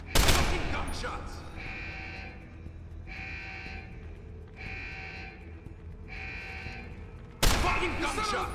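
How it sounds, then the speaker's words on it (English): Shots ring out in Deus Ex: Human Revolution, a loud burst at the very start and another sharp blast near the end, with a repeating pulsing electronic tone in between. "Fucking gunshots!"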